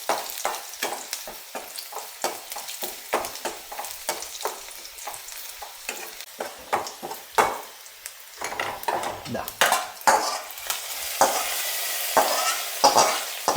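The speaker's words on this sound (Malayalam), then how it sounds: "ഉള്ളി ഒന്ന് വഴണ്ട് കിട്ടണമല്ലോ." Onions sauté in a pan for a Kerala drumstick-leaf curry. A spatula scrapes in quick, repeated strokes over a continuous sizzle that grows louder toward the end, with no voices.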